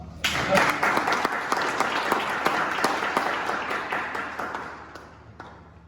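An audience at a Toastmasters speech claps warmly for several seconds, a dense patter of hands that gradually fades, with a voice briefly heard over it.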